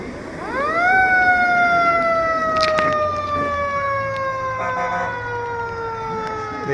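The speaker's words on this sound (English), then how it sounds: "The siren usually indicates that's Santa Claus on the Marysville fire truck." A fire truck siren at a Christmas parade in Marysville winds up and holds a loud, steady wail, slowly falling in pitch, with a few sharp clanks in the background.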